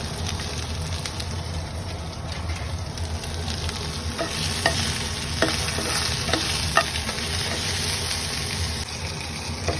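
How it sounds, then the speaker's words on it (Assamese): Fish sizzles steadily in hot oil in a pan, a dense continuous frying hiss with occasional louder pops and crackles throughout, close and fairly loud. "মাছখিনি ফ্ৰাই কৰি ল'ব লাগিব প্ৰথমতে"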